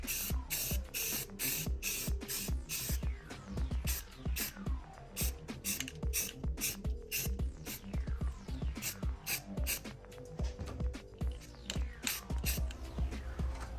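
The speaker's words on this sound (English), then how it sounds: "We're going to be hitting it with some self-etching primer" Self-etching primer sprays from an aerosol can onto a VW Baja custom center console part in short, rapid repeated hissing bursts, close and steady throughout, with no talking.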